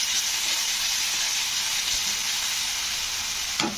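Spice paste with chilli powder, turmeric and salt sizzles steadily in a pan of oil while it is stirred, a continuous hissing fry that carries on alone with a brief scrape near the end.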